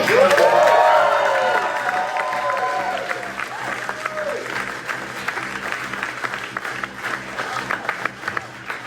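A comedy-night crowd applauds and cheers as a comic is welcomed to the stage, loud whoops and clapping at first that gradually thin into scattered, fading claps.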